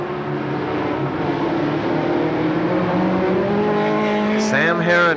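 Stock race cars run side by side into a turn at Shadybowl Speedway, their engines a steady loud drone that builds toward a rising rev near the end, with an announcer talking over the racket.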